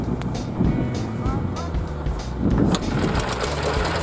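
A small 8-horsepower air-cooled village motorbike engine is started and runs with a rough, uneven putter and some mechanical clatter, fairly close, while people talk over it.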